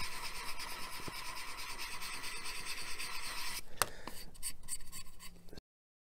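A file rasps back and forth over the nubs of a large Unicorn Gundam plastic model kit in a steady, close scraping stroke, ending in a few sharper scratches and taps before cutting off.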